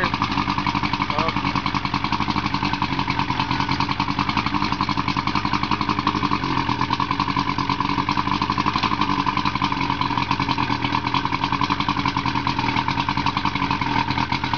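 A 1986 Evinrude VRO 70hp outboard motor runs with a steady, loud, buzzing rattle that continues unbroken throughout.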